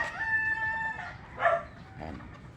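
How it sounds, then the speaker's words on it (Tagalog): A backyard rooster in Bulacan, Philippines, lets out a long, drawn-out crow, followed by a few shorter clucks from the flock. The calls are close and clear over a quiet yard, with no talking. "Ayun mga manok ko."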